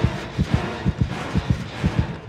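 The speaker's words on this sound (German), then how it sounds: "Ich habe gerade ganz doll einen Herzschlag." The heartbeat effect in the video game Dead by Daylight thumps loud and steady in paired beats, repeating quickly over a low droning background with no speech.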